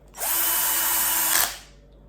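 A power drill drives a screw into a brush socket on a Gardiner brush in a workshop, with one close, steady whine lasting just over a second before it winds down.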